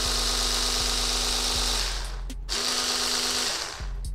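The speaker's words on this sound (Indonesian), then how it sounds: "Nih, pengocok telurnya sudah berfungsi ya" Pisces PHB400 electric egg beater attachment running, a steady close motor whine with rhythmic pulsing, briefly interrupted twice as it is restarted; no talking.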